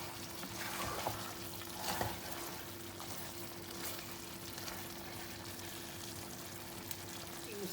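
Sardines with potato and brinjal (eggplant) cook in a pan, giving a steady, faint, hissing sizzle throughout, with a couple of soft clinks and no talking.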